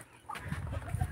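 A hen clucks in soft, rising bursts in a Pakistani village yard, close and fairly quiet over light background noise.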